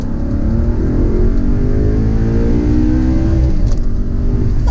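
An Audi R8 Spyder V8 engine roars steadily at close range, its pitch climbing and sweeping as it revs on the highway, loud and continuous with no talking.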